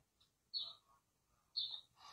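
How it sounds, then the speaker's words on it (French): Indoors, a bird gives two clear, sharp chirps about a second apart, followed by a softer call at the end, each close and distinct against a quiet room. "Tu as un oiseau chez toi?"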